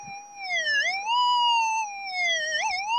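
A metal detector sweeps over a buried gold nugget while prospecting for gold, giving a loud, continuous warbling tone that rises and dips in pitch, close and alone without speech.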